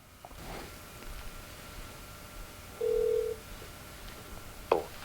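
A telephone line gives one short, steady ring tone midway through an otherwise quiet stretch of hiss, followed by a faint click near the end.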